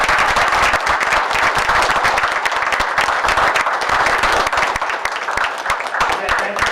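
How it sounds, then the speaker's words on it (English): Loud, sustained applause from a crowd at a borough council meeting, honoring a group of kids, with dense overlapping claps and crowd noise filling the room and a voice faintly mixed in. "if we can have one more round of applause for all the great kids"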